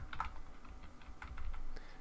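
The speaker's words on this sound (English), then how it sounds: "We're going to type bypass" Typing on a computer keyboard, a quiet run of irregular light key clicks alone in a soft room.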